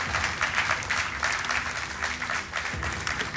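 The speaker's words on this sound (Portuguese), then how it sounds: "Um aplauso para eles." Studio audience on a Portuguese TV quiz show applauds steadily for the contestants, a dense, even patter of many hands that fills the clip with a faint murmur of voices beneath.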